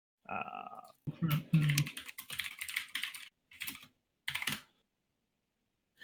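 Bursts of typing on a computer keyboard, quick clusters of key clicks separated by short pauses, with a low hum or voice-like sound near the start.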